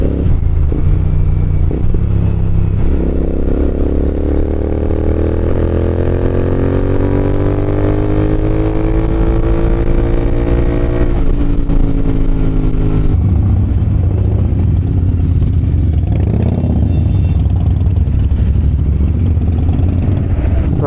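A motorcycle rides along the road, its engine droning loud and steady, rising in pitch as it accelerates through the gears, with wind rumble throughout.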